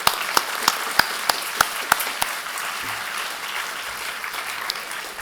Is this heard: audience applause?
yes